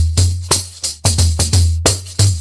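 Brazilian pandeiro played up close with a deep bass thump and sharp jingling slaps, about nine strokes in a lively syncopated backbeat over two and a half seconds, with no talk.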